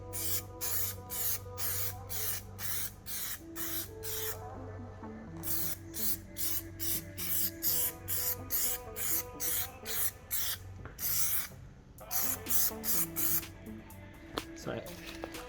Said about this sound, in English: don't be shy, give it a good spray